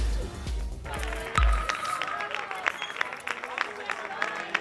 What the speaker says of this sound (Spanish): entre aplausos de policías, padres y profesores